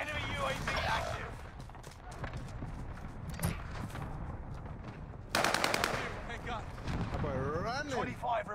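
A minigun fires in a video game, rapid bursts of gunfire over busy in-game sounds, with someone talking over the action.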